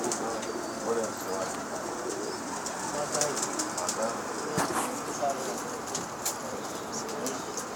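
Pigeons coo on a rooftop loft, a dense continuous rumble of many birds with occasional wing flutters and chirps, while people talk nearby over the flock.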